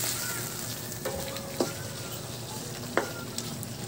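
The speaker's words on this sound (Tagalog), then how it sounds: "Yan, tuloy lang sa paghalo." Chicken gizzards and liver frying in an open pan, a steady close sizzle broken by a few sharp scrapes of a utensil stirring against the metal.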